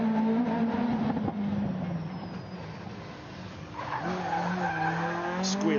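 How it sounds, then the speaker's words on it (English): Rally car tyres squeal loudly through a fast corner on a super special stage at Goodwood SpeedWeek, with the revving engine sweeping up and down in pitch. Squealing returns near the end, with commentary faintly under it. "Squeal of tyres, and again two-wheel drive technology."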